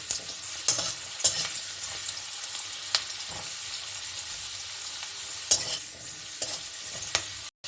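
Small red potatoes lightly frying in a pan, with a steady close sizzle of oil and occasional sharp spoon scrapes and clinks while they are turned, cutting off at the end.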